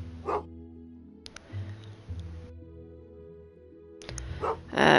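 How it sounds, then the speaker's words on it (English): A dog in the video game Potion Permit lets out short, bright barks, one early and a louder burst at the end, over gentle game music tones. "Dog."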